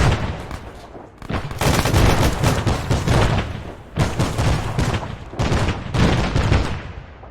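Dense bursts of rapid gunfire crackle almost continuously through a protection services training exercise, with short pauses between loud volleys that echo and overlap.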